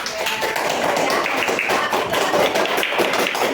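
A class of students applauding their classmates' group in a school lesson, a dense, steady wash of many hands clapping together at close range for several seconds, without talk.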